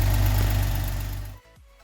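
A 1979 Opel Monza series 1 barn find idles outside with a low, steady, smooth rumble for a moment, then cuts off abruptly, leaving near silence.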